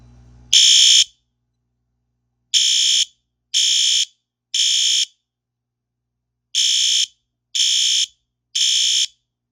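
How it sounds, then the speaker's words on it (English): L-Series LED weatherproof fire alarm sounding a temporal 3 pattern at low volume: two groups of three loud, harsh buzzing blasts, each about half a second long, separated by a longer pause, close and alone in silence. "I have this set on 185 candela and temporal 3 low volume. So we'll give it a test"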